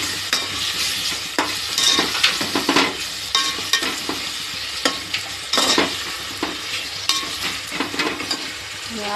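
Vegetables fry for a 1 kg veg paneer biryani, with a steady, close sizzle in the pan. Repeated scraping stirs cut through it at an even rhythm.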